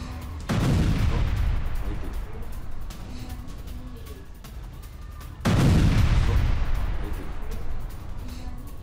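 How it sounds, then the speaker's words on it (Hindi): Israeli forces opening fire on a civilian area in Lebanon: two loud, heavy blasts about five seconds apart, each followed by a long rumbling tail that slowly fades. "इसराइल ने सिविलियन इलाके पर गोलीबारी की है"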